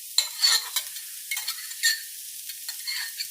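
Half a chopped onion lands in hamburger meat frying in a pan and is stirred, with a faint sizzle and scattered light scrapes and clatters close by.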